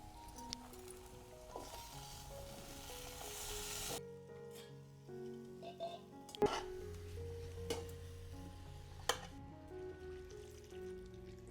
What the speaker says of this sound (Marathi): आता या आपण मिक्स भाज्या निवडून ठेवलेल्या घालूया.